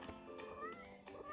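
Kittens in a mobile video game give several short, high, faint meows in quick succession, with soft background sound underneath.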